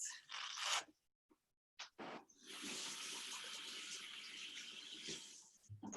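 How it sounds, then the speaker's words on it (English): Tap water runs while hands are washed, first a short gush, then a brief pause, then a steady close stream that continues to the end. "I'm gonna go wash my hands."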